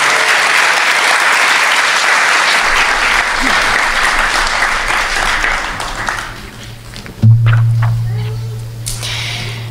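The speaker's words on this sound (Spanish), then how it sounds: "Un aplauso para ella, por favor." Audience applause at a small music performance welcomes a guest singer, loud, dense clapping that gradually thins out, followed by a short low hum or thump and a few scattered sounds as the stage settles.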